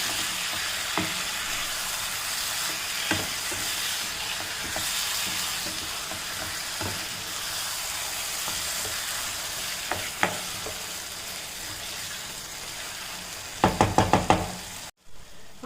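Chicken biryani masala fries and sizzles in a pan over a medium flame, with a steady hiss broken by scattered spoon knocks and a quick burst of clattering stirs near the end before it cuts off.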